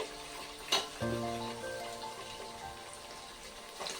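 Chicken masala, garam masala, coriander-cumin powder and ginger garlic paste sauté in a hot pan for chicken biryani gravy, a soft continuous sizzle with a few stirring scrapes and clinks, close and fairly quiet.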